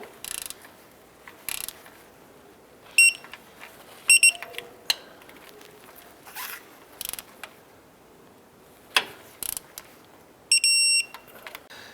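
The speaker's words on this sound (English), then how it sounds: "Now we're going to go ahead and torque these pan bolts down to 105 inch-pounds." Torque wrench ratchets in short bursts of clicking while tightening transmission oil pan bolts on a 2004-2009 Dodge Durango, the rapid ticks spaced by quiet pauses and a few sharp metallic pings.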